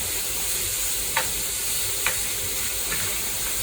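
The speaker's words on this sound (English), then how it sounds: "And just stir fry it around, make sure it's evenly on the pan." Food for a Caribbean stir fry sizzles steadily in a hot pan, a constant bright hiss broken by three soft scraping stirs spaced about a second apart, close and fairly quiet.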